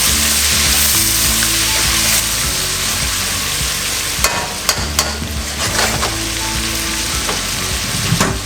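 Cabbage frying with garlic in a pan, a loud, dense sizzle that runs throughout, with sharper scraping and clacking from stirring in the second half, no voices.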